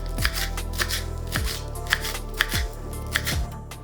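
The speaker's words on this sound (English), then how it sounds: "Cut the stems off the bunch and then finely chop it all up." A knife chops a bunch of fresh parsley finely on a board in a wood-fired-oven cooking setup, with firm, evenly spaced strikes about a second apart and lighter taps between them.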